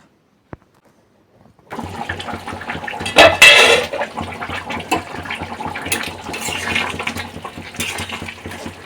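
Hot water is poured into a pot of yogurt chicken curry, a sudden sustained splashing gush that starts after a quiet moment and carries on, close and fairly loud, with no voices.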